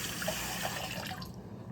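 Water from a tap runs over a hot pan in a home kitchen, a quiet steady splashing with some faint dripping and hiss that fades out near the end.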